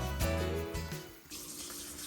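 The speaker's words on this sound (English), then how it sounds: "So we're gonna add a little bit of water to it." Water runs from a tap and splashes into cabbage being made into sauerkraut, a steady close pouring sound with a brief dip before picking up again.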